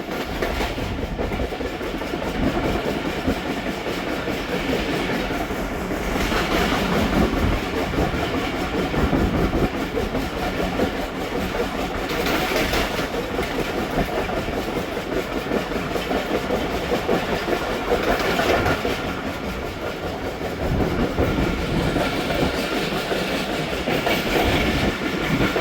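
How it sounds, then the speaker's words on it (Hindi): The Tezgam passenger train runs past Drigh Road junction, heard from on board as a steady loud rumble with rhythmic clickety-clack of wheels over rail joints throughout. "5:45 पर दोस्तों ड्रिग रोड जंक्शन पास हो रही है ट्रेन।"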